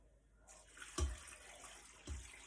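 Water pours into a Pampered Chef Quick Cooker pot in a kitchen, a steady splashing stream starting partway through with a couple of soft thuds, close by.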